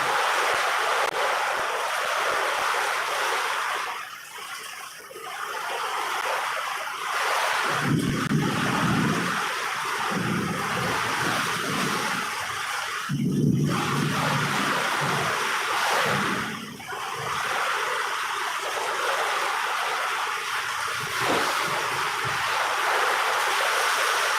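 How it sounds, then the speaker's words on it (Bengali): Heavy rain and gusting storm wind outdoors, a steady broadband roar that swells and dips in waves, with no talk. "কত জোরে ঝড় বৃষ্টি চলছে"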